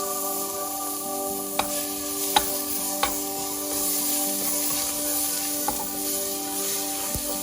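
Garlic and ginger sizzle in a hot frying pan for a chicken dish. The hiss is loud, steady and close, with a few sharp clicks over a faint background hum.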